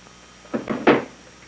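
A drawer slides open in a room, giving a few short wooden scrapes and knocks, the last one louder, close by with no talk.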